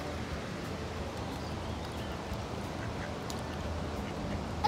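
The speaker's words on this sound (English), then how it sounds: "I said, quack, quack. You hear him? He is quack, quack." Ducks quack outdoors while being fed, one chasing another away from the food; the calls are soft and intermittent within a steady wash of outdoor background noise.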